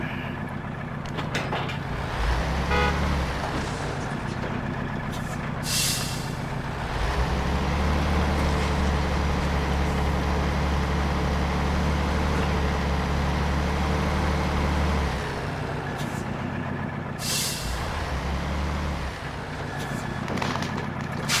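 Heavy truck engine in Spintires: Mudrunner, a steady low rumble that swells louder in the middle and drops back, with brief hissing bursts like air brakes releasing.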